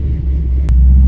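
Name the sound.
LS swapped C10 truck engine rumbling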